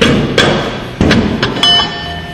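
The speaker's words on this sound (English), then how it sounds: "we'll need the rubber mallet to kind of tap this off of here." A rubber mallet taps a tight-fitting part off a 0B5 (DL501) wet dual clutch in a garage, giving four or so dull, separate knocks with short ringing pauses between them.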